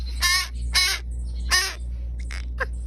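Crows cawing near a wildlife rescue center: three loud harsh caws spaced about half a second apart, then a few fainter, shorter calls, over a low steady hum with no talking.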